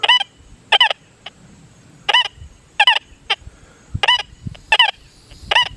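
Deus 2 and Manticore metal detectors give short bright warbling target tones when swept over small ferrous metal above a dime, seven separate beeps in an irregular rhythm over faint background noise.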